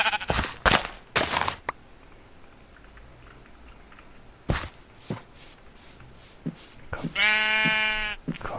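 A Minecraft sheep bleats once, loud and wavering, near the end, after a scatter of sharp thumps and shuffling game sounds with quiet gaps between them.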